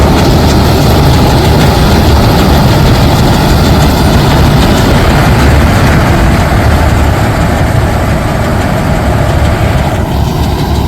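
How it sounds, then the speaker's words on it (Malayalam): Combine harvester working through a paddy field, giving a loud, steady heavy-engine drone with continuous mechanical rumble close by for the whole stretch, with no voices. "സോ അത് മെഷീൻ വെച്ച് ഹാർവെസ്റ്റ് ചെയ്തുകൊണ്ടിരിക്കുന്നുണ്ട്"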